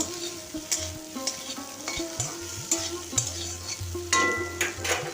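Prawns, onion stalks and potatoes stirred in a sizzling pan: a rhythmic scrape and clatter of a spatula over loud, close frying, with no talk.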